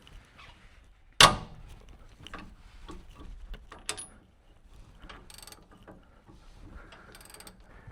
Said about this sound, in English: we'll try to back that nut off with my ratcheting wrench and my mini breaker bar